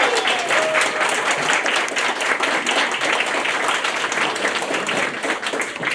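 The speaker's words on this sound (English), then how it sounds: "stand up and accept your thankful applause of your citizens" A sustained round of dense, steady clapping fills the room as an audience applauds council members at a community engagement session, continuing for several seconds with no break.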